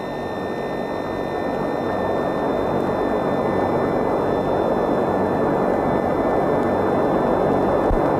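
A NATO E-3A AWACS early-warning aircraft flies past in a continuous, loud engine roar with a steady high whine layered on top, sustained without pause.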